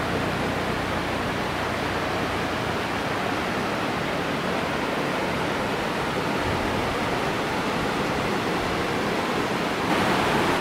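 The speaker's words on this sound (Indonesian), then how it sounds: "kita udah sampai nih di sini dan ini sungainya dengan sungai batu-batuan gitu" A rocky river rushes steadily with a dense, loud, unbroken roar of water flowing over stones, close by and continuous throughout.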